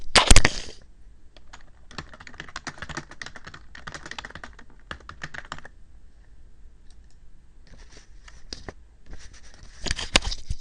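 Fast bursts of computer keyboard typing while a series name is entered in Excel 2007, with crisp key clicks in irregular clusters and short pauses, close and clear, with no talking.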